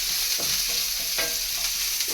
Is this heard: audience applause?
no